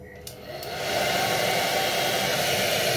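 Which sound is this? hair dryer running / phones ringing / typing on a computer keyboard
hair dryer running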